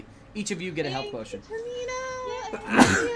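A single sharp sneeze bursts out near the end of a Dungeons and Dragons tabletop game session, following several seconds of people talking.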